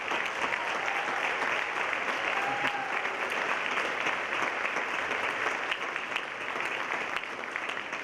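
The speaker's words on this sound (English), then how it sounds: "They all need applause." Sustained applause from a school concert audience honoring elementary and middle school teachers, a steady dense wash of clapping holding evenly for the whole stretch with no pauses.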